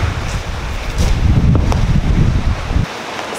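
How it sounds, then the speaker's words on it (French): Strong evening wind buffets the microphone on the seashore in Mallorca, a loud, gusty low roar with rustling bursts that drops off sharply near the end. "le vent est déchaîné aujourd'hui, enfin ce soir, et la mer aussi du coup"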